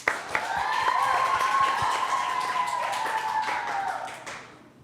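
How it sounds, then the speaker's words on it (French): Visiting international school pupils and hosts clap to encourage a singer, a steady wash of applause with a sustained ringing tone above it before it tapers off. "On applaudit pour l'encourager."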